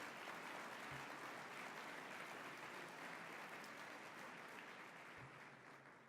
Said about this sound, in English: A round of applause for Christy, the staff, the volunteers, the board.